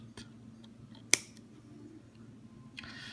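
Vape coil wire, Clapton or Kanthal, is snipped once with a single sharp, close cut that stands out against a quiet, faintly humming room while building on a Velocity RDA.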